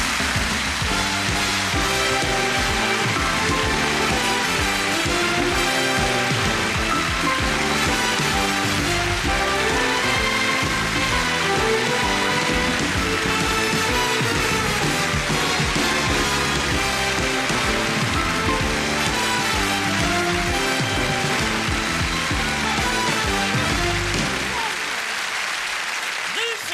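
Sustained studio audience applause for photographer Patrick Lichfield on a TV chat show, dense and loud throughout, fading near the very end.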